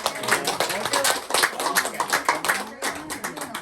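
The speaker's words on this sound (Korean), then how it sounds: "아들 힘내라고 박수 좀 주세요" Clapping from a congregation or small audience to encourage a son, loose rhythmic hand claps in uneven bursts, close by, with voices mixed in.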